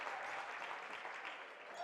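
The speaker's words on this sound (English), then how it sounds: "West End crowd starts clapping" A high school basketball crowd claps steadily in the gym during a game, fairly faint and distant, a dense even patter of many hands.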